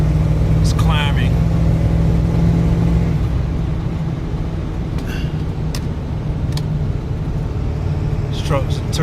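A Ford F350 Super Duty with a 7.3 Powerstroke diesel engine hums steadily while climbing a hill, with a constant low drone and road noise throughout and brief clicks and squeaks over it.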